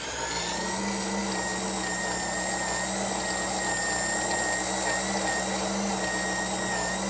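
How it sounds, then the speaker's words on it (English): An electric mixer beats a Greek-style chicken soup mixture with rice, giving a steady, close, unbroken motor whine with a slightly uneven, strained tone throughout. "I actually can hear the mixer that it's not running smoothly"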